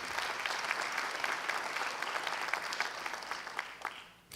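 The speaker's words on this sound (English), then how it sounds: "please, a round of applause for all of those." A crowd at an Armed Forces Day ceremony applauds veterans' groups, with steady, dense clapping that carries on for several seconds before tapering off at the end.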